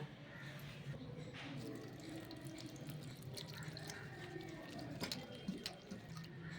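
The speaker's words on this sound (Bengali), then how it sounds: "এগুলোকে জলে আমি ভালো করে ধুয়ে নেব" Drumstick flowers being washed in water, with quiet sloshing, swishing and dripping close by in a steady, low-level stream of small splashes.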